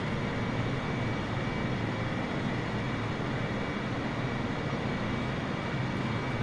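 Boeing 747-8 taxiing in Microsoft Flight Simulator 2020, a constant broadband jet-engine roar that stays steady and loud throughout with no voices.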